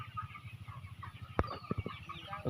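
Chickens cluck on a large poultry farm with two sheds, a steady mass of soft clucking with a few sharper, louder calls standing out near the middle.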